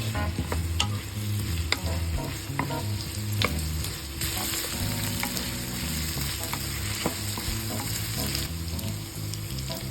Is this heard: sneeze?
no